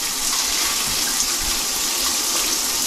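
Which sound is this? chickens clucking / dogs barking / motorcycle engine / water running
water running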